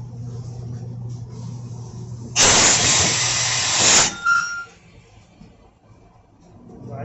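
A steam iron releases a loud, steady hiss for about two seconds while a girl's school pinafore is being pressed, then it cuts off and quieter handling sounds follow over a low background hum.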